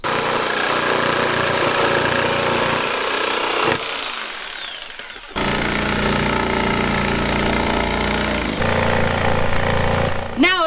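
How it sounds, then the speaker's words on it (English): A new power saw cuts loudly and roughly during a self-build camper van conversion, running in long bursts with a short pause midway and a final stop. "I have my new saw and I'm not afraid to use it."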